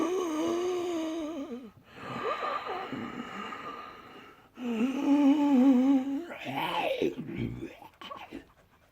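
A voice imitates a zombie's growling, rasping breath in wavering snorts and groans, two long drawn-out bursts with a short pause between, close and fairly quiet.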